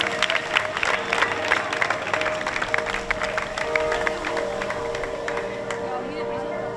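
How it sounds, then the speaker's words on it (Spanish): Onlookers at a neighbourhood festival motorcycle gymkhana in Zaidín keep up steady, moderately loud clapping mixed with crowd murmur throughout. "Un aplauso para el fuster."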